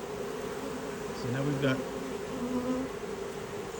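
Honeybees at a swarm trap make a continuous close buzzing hum as they fan, with a few louder passing buzzes, while someone talks briefly over it.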